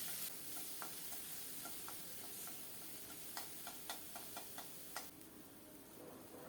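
Onion and garlic paste fries in oil with slit green chillies, a steady low sizzle under sharp clicks of a spoon stirring against the pan at uneven intervals, close by and with no talking.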